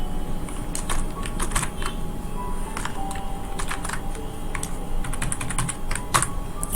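Computer keyboard typing while a PAN number is entered into a tax form, crisp irregular key clicks in quick bursts with short pauses, close and clear over faint room noise.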